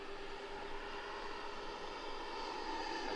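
Arrows RC F-15 Eagle model jet idling, a faint steady whine with a smooth, unchanging drone heard from a distance, with no voices.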